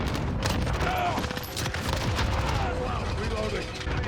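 MP5 submachine gun fire in the Modern Warfare video game: dense, continuous bursts of rapid shots with booming low-end, loud and sustained throughout without a break.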